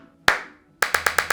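A single sharp hand clap rings out alone, followed after a short pause by five quick, evenly spaced claps, all close and loud, made to sync a recording in a home studio setup.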